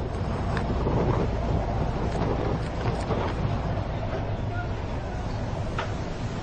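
Storm wind buffets a fishing trawler at sea, a steady loud roar with gusting rumble and occasional knocks throughout.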